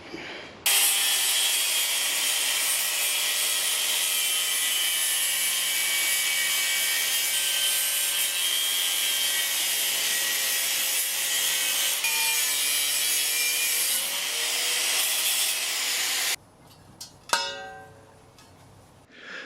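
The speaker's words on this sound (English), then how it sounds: "let's get this collar cut off so we can make a grate for the bottom." A saw cuts steadily through a collar that will be turned into a grate, making a loud, continuous rasping stroke for about sixteen seconds before stopping, followed by a few light clinks and handling noises.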